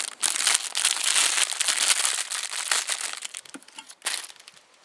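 A plastic bag holding a camping stove burner crinkles and crackles in close, busy bursts, with short pauses near the end and no talk.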